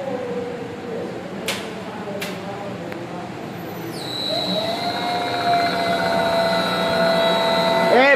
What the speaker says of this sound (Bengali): এই মেইন মোটরে ডাক দেয় এটা